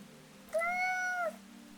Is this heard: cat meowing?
yes